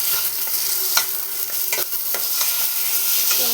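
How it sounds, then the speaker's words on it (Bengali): Boiled potato and a chili-ginger paste sizzle steadily in a hot pan, a loud continuous fry with occasional scraping stirs and small pops. "ভালো মতো ভেজে নেব"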